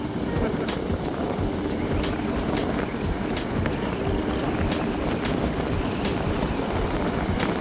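Steady, heavy wind buffets the microphone on an Eastern Cape fishing beach, a constant rumbling roar with gusty crackles throughout.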